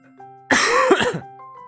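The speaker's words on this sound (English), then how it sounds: "you can tell from my cough" A single harsh cough or throat-clearing, close and fairly loud, over a quiet background with faint soft tones.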